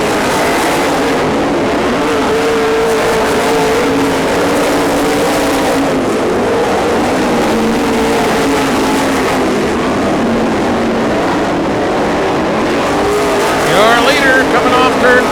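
Race cars roar around a track in a loud, continuous engine drone that rises and falls as they pass close by, with an announcer talking over the noise.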